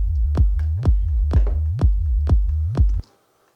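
Synth bass line with pitch-bend automation, played as a deep throbbing pattern under regular sharp kick-like hits about every half second, each bass note swooping in pitch. The loop runs for three seconds and then cuts to silence.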